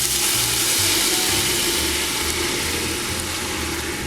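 White wine poured into a hot pan of garlic and shallot to deglaze it, giving a loud, continuous hiss and sizzle that holds steady throughout.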